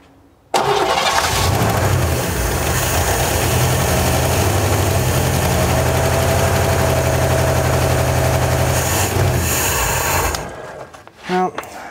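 A 1957 Chevy Bel Air engine, sitting unrun for 35 years, catches and runs loudly for about ten seconds with a steady rough idle, then cuts out as voices briefly follow.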